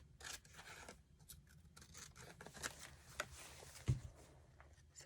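Scissors trim excess paper pieces in a quilting project, a series of quiet close snips and soft rubbing paper rustles, faint and irregular.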